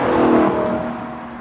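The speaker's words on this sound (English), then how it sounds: "it sounds melodious as well, with that deep V8 growl" A Lexus LC 500's naturally aspirated 5.0-litre V8 gives a deep, loud growl that swells briefly and then eases off, heard close and alone.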